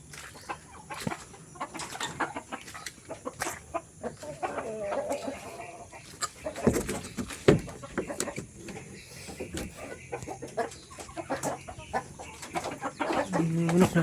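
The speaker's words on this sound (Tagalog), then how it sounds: "Manok natin." Farmyard chickens cluck and mutter in scattered bursts at a house during heavy rain, fairly faint with soft bumps and some quiet talking mixed in.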